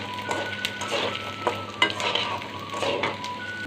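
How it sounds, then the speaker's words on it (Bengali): Lumps of sun-dried mung dal and ash gourd bori lightly frying in oil, a steady soft sizzle with occasional stirring scrapes and clicks, close and continuous with no talk. "এটাকে আমি একটু হালকা ভেজে নিচ্ছি"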